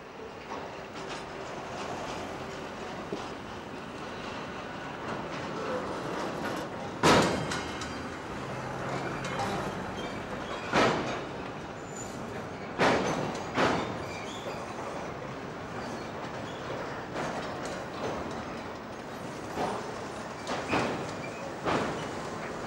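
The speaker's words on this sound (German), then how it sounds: "Ein Stockwerk tiefer rangiert die Eisenbahn." Railway wagons shunt onto the deck of a train ferry at the old Sassnitz ferry port, a low rolling rumble punctuated by several loud metallic clanks and wheel squeals spaced seconds apart, with no talk.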